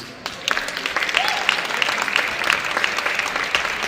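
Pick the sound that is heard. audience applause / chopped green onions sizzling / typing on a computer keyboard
audience applause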